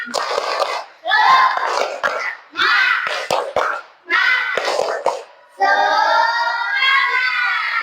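A class of schoolchildren chants the 'tepuk semangat' clapping routine in bursts of loud group voices and hand claps, with short pauses between phrases and a sustained shouted ending.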